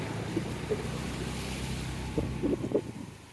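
A low, steady rush of floodwater flowing along a street in Jaffna, mixed with wind noise and a few faint knocks and splashes.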